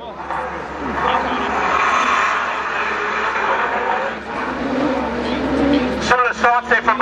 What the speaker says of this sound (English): The Honda powered Elise goes up the hill now